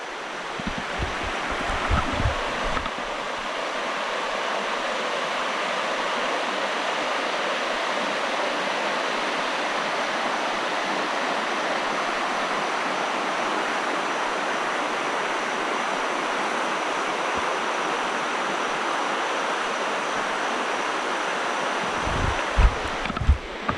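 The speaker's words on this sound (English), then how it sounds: "It's right along the river here." A river flows steadily beside a sandbar campsite along the Foothills Trail, a constant broad rushing wash lasting throughout with a few brief low thumps at the start and end.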